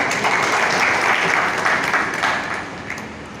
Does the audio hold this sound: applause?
yes